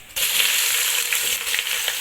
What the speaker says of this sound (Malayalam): ആ എണ്ണയിലേക്ക് തന്നെ അണ്ടിപ്പരിപ്പ് ഇട്ട് കൊടുത്തിട്ടുണ്ട് ഇത് നമുക്ക് വറുത്തെടുക്കണം